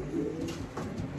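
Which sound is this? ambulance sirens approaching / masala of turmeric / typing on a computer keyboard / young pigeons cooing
young pigeons cooing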